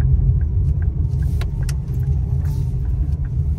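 A car drives along a road with a steady low engine rumble and tire noise, close and continuous, with faint clicks and rattles from inside the vehicle.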